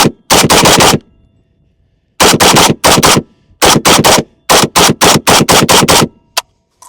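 A PSA AK101 rifle firing, close and very loud: short bursts and strings of rapid shots separated by brief pauses, with sharp reports and a little echo.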